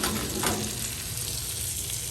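Chicken wings frying in butter and avocado oil on a Blackstone griddle, giving a steady, close, crackling sizzle with no talk.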